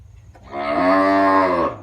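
A cow on a Thai cattle farm lets out a single loud, close moo, rising and holding for about a second before dropping off, with faint farm background and no talk.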